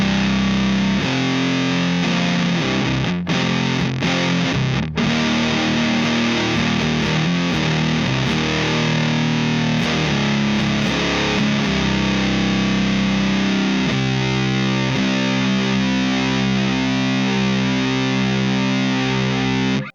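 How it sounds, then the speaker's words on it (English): Heavily fuzzed electric guitar in drop C tuning, through an O.C.E. Pedals Demon Core fuzz pedal, plays thick, saturated chords and riffs, loud and continuous, with brief choppy stops early on. "I've got a guitar here that's tuned to drop C, so let's see how that sounds."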